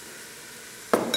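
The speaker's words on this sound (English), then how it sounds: "And I stir." A pot of food sizzling as it is stirred, with a faint hiss first and then a sudden close scrape and burst of frying as the spoon moves through the pan at the end.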